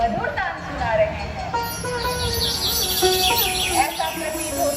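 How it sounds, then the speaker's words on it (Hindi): Birds chirp and trill in bright, rapid calls that run throughout, heard together with a speaking voice and a dense layer of background sound. "ये पक्षी कैसे मधुर तान सुना रहे हैं।"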